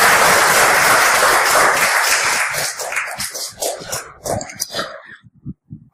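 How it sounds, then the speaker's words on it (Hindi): Loud audience applause welcoming guests at a Hindi DXN business seminar, a dense wash of many clapping hands that thins into scattered individual claps and fades out near the end. "एक जोरदार तालियों के साथ।"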